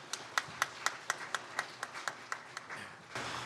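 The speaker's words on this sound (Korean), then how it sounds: "우리 축복의 박수 하도록 하겠습니다" About a dozen sharp, evenly spaced handclaps from a small church congregation ring out in a reverberant room, ending abruptly in a brief burst of noise.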